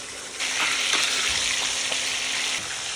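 Skate wings fry in a pan with hot oil basted over them, giving a steady, bright sizzle throughout with a few soft splashes from the spoon.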